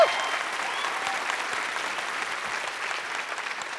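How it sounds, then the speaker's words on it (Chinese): A studio audience at a live book talk show recording breaks into steady applause, a dense wash of many hands clapping that begins abruptly and stays even throughout. "来，先给自己一个掌声好不好？"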